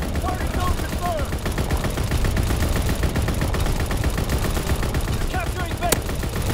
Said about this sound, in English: Anti-aircraft salvo commenced. Clearing the skies.